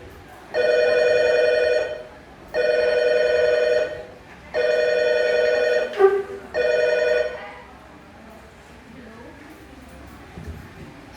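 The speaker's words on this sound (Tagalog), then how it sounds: "kalit lang mitingog ang ilahang telepono" A home telephone rings in four evenly spaced bursts of roughly 1.5 seconds each, loud and close, then falls quiet before a voice answers.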